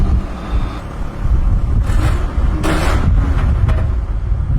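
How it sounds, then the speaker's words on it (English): A pickup truck with vodka poured into its gas tank cranks and starts up, a loud rough engine rumble running throughout with a few sharper bursts near the middle, outdoors with wind buffeting the microphone. "I don't anticipate there being any problems, obviously, starting the truck up here."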